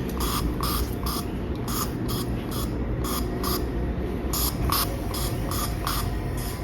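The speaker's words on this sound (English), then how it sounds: "I still like to spray this scent through the house." A household scent spray misted through rooms during spring cleaning, a steady train of roughly a dozen short, crisp hissing bursts in quick rhythm, close and loud over a busy background.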